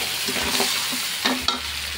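Shrimp, mussels, squid and corn sauté in butter in a pan, giving a steady close sizzle broken by a few soft stirring scrapes and taps.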